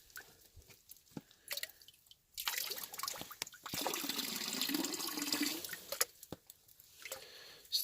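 Water splashing and trickling over gold-bearing gossan rock pieces as they are rinsed clean, a steady wash in the middle with scattered drips and clinks before and after, fairly close.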